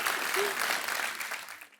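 Studio audience applause on a comedy talk show, a dense steady wash of clapping sustained through the moment, fairly loud and close, fading out at the very end.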